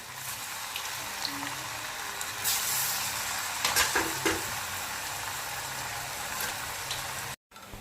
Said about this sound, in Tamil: எண்ணெய் நல்லா காஞ்சிடுச்சு வடை போட்டு எடுத்துக்கலாம்